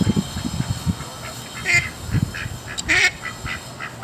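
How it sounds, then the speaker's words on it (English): A backyard duck quacks in short, scattered bursts at moderate distance, with a couple of louder, harsher calls standing out over steady outdoor background noise. "What's up, crazy duck?"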